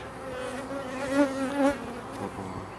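Honeybees buzz busily at an apiary hive while a swarm is being formed, a close, wavering drone with individual bees flitting past and swelling briefly.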